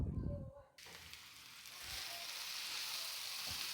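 Yellow pumpkin pieces hit leftover ghee in a pan for halwa: after a brief low thump, a soft steady sizzle and crackle rises and holds, close but quiet, with no talking.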